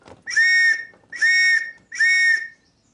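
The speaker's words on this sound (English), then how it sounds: "my trusty ARP whistle." An air raid precautions (ARP) warden's whistle blown three times in even, shrill blasts of about half a second each, loud and close, with brief quiet between them.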